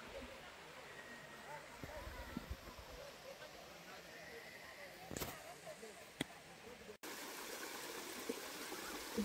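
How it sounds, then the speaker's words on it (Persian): Waterfall deep in a Mazandaran forest, a steady broadband rush of falling water, close and continuous, with brief clicks and knocks over it. "خب ما رسیدیم به آبشار. اینم آبشار قشنگ."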